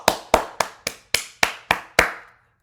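Eight sharp, evenly spaced hand claps, loud and close, each with a short decay, the final clap ringing a little longer.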